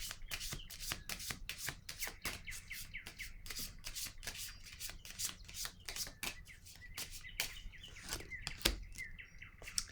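Tarot cards being shuffled by hand, a rapid, steady run of soft flicking and riffling slaps close to the microphone, faint and uninterrupted throughout.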